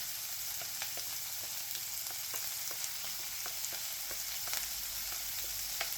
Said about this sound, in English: We're going to saute these veggies.